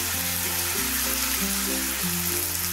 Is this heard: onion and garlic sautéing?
yes